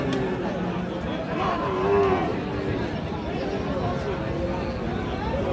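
Friesian cross bull calves moo at a busy rural cattle market in Dinajpur, one drawn-out low call standing out near the middle while a crowd murmurs and people talk throughout.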